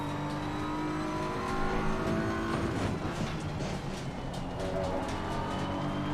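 BMW race car engine in Assetto Corsa Competizione, a loud continuous roar with rising and falling revs as the car accelerates, steady throughout without pauses.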